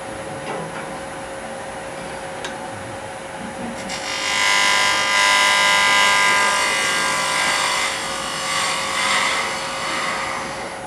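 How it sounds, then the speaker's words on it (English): A lathe tool facing off the end grain of a wooden acorn box, starting with a faint steady hum, then a loud continuous rasping, scraping cut that rises partway through and holds with slight swells. "I'm gonna face off the end here"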